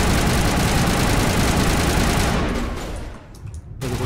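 A submachine gun in Mass Effect fires a dense, continuous burst, a loud rattling roar that holds for about two and a half seconds, then drops away before a brief tail of noise.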